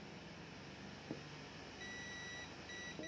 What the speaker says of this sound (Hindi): ये बीप दे रहा है